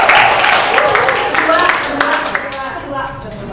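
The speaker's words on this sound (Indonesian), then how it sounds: "tepuk tangan untuk dia." Classroom applause for a runner-up in a make-up competition, loud and close, with clapping mixed under lively voices and chatter that continue as the clapping thins out toward the end.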